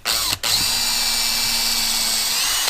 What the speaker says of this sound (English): pre-drill all my little holes just a little bit so the screw bites nice